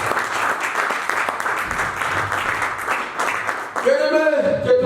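A church congregation claps and cheers in a broad roar of applause that swells, then gives way near the end to a voice singing or calling out over the crowd.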